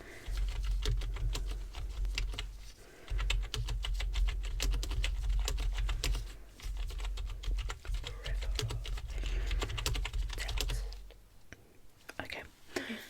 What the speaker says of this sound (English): I'm just going to take a few notes and write them down.